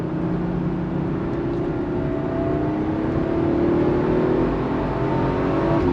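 A 1993 Toyota Supra Turbo engine revs close and loud, its pitch climbing steadily toward a 6,800 RPM redline in one sustained pull, with no voices over it.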